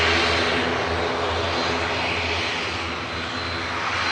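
Broad, steady roar of an aircraft engine at Manchester Airport as a flight bound for the Isle of Man departs, continuous and fairly loud for the whole span with no talk.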